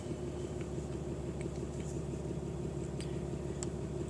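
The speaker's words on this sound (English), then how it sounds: "Start the truck" A pickup truck engine idles steadily at close range, giving a continuous low rumble with a faint mechanical ticking layered on top and no pauses.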